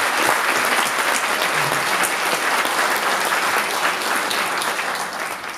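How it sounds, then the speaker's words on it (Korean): Loud, sustained audience applause at a traditional Korean dance performance, a full house clapping steadily for several seconds before easing slightly at the end. "한번 박수를 주시죠"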